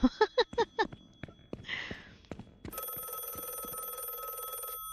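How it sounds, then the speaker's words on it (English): Video game telephone ringing starts after a few footsteps and a short rustle, then rings steadily and loudly for the rest of the moment, close and unaccompanied. "I can't tell where the phone's ringing from."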